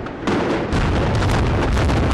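Explosions rip through a real building being demolished on a film set, giving a loud, continuous roar of blasts and rumbling debris that swells and stays heavy throughout.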